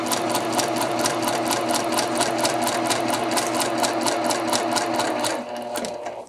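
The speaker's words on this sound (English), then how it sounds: "I'm going to start on a number 2 stitch, back tack at the beginning. Stitch at a 1/2 inch seam allowance." A sewing machine stitches a seam with a half-inch allowance at a short stitch length, its needle pounding in a fast, even rhythm over a steady motor whir, loud and close, slowing briefly at the end.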